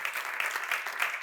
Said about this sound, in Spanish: Un aplauso para Jorge, que ho va intentar.